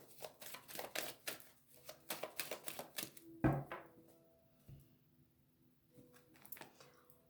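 A deck of oracle cards (oracle des miroirs) is cut by hand, giving a run of soft, rapid papery clicks and riffles with one sharper tap midway, all quiet and close.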